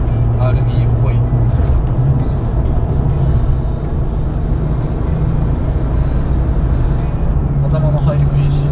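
A Nissan wagon fitted with an RB engine delivers a continuous, loud intake and engine drone from inside the car, its pitch steady with slight rises as the throttle changes, and people talk over it.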